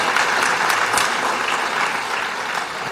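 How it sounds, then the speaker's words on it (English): An audience applauds at a Los Angeles County retirement ceremony for Dr. Lakshmanan Sathyavagiswaran, a loud, dense round of clapping from many people that runs continuously and eases off slightly toward the end. "Give him another round of applause"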